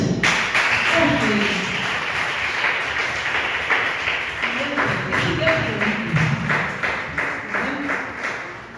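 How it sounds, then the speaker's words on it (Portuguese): A church congregation applauds during a worship service, sustained rhythmic clapping that builds and continues for several seconds with voices and music in the background. "você pode aplaudir Jesus?"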